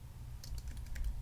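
Keys clacking on a computer keyboard in quick irregular bursts, close and fairly crisp, over a low steady hum while someone enters figures for a cash flow statement.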